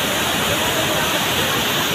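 Steady roar of a waterfall at Siddhnath Dari in Mirzapur, a dense, unbroken rush of falling water that fills the whole two seconds without pause.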